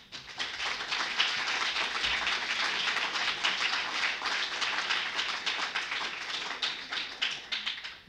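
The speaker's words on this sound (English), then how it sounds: "Just keep clapping" An audience at a KPMG corporate event claps together in a dense, sustained round of applause, loud and steady with no pause throughout.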